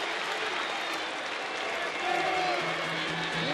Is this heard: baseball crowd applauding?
yes